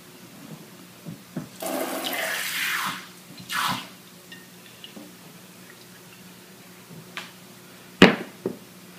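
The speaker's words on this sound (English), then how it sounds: "go ahead and fill that from the sink there with just some fresh water" Fresh water runs from a kitchen sink tap into a container in two short gushes, followed by quiet and a few sharp clunks and drips, with no talking.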